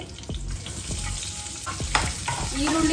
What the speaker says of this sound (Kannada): ಕಲರ್ ಟರ್ನ್ ಆಗೋ ತನಕ ಸ್ವಲ್ಪ ನೀಟಾಗಿ ಫ್ರೈ ಮಾಡ್ಕೊಳ್ಳಿ